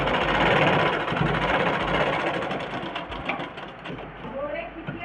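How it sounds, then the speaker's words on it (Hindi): A sewing machine stitching a blouse runs in a steady, rapid mechanical chatter close by, easing slightly toward the end, while someone speaks over it. "ये इस तरह से बराबर इसको सिलाई चलाना है।"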